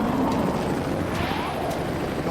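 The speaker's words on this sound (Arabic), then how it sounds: "طائرة مروحية، جميل جداً." Cartoon helicopter for a children's truck animation, a loud steady rotor whir with a broad engine rumble, held continuously without talk.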